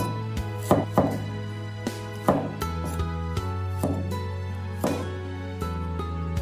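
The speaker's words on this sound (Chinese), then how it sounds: "接着再准备一坨生姜和几颗大蒜子切成粒" Ginger and garlic being chopped into small pieces on a cutting board, a steady series of close, sharp knife knocks over a low steady hum, with no talk.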